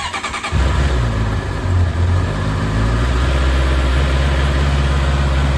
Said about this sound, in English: go ahead and start it for a little bit. Let it run for about 3 to 5 minutes.